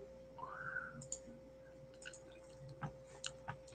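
A computer mouse clicks a few times at irregular intervals, each click short, sharp and faint over a quiet background with a steady electronic hum.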